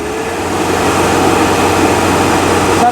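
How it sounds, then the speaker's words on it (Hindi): A Tata 1109 BS3 truck's diesel engine with an electronic EDC pump, revved at full throttle, holds a loud, steady, close drone for the whole stretch with no talk over it. "एक बार फुल दबा दो, आरपीएम देखना है इंजन का"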